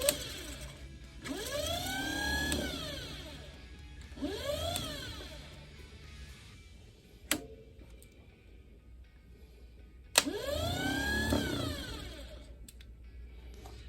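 A Ford Model A starter motor spins on a bench in three separate bursts, each winding up to a whine and then winding down. Sharp metallic clicks fall between the runs. The sound is fairly quiet and close, with no talking.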